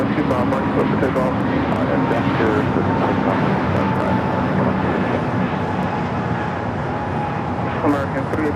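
A jet airliner thunders down runway 25 Right at LAX on its takeoff roll, a loud, continuous engine roar heard close up while people talk over it.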